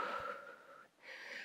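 Heavy breathing after a BOSU ball strength and cardio workout: a few close, breathy inhales and exhales, with a short snort-like intake at the start and a brief pause before the next breath.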